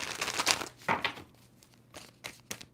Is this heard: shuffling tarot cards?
yes